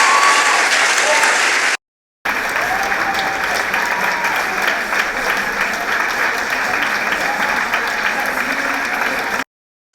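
Sustained audience applause fills a brunch event hall, dense and steady for several seconds, cut by a brief gap before the clapping resumes at full strength.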